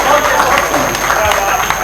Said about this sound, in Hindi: ताली बजा सकते हैं आप लोग